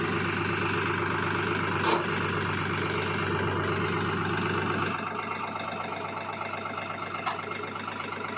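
A New Holland 3600 tractor engine runs in first gear with a steady, close, throbbing diesel drone, briefly rising around mid-run before settling slightly lower toward the end.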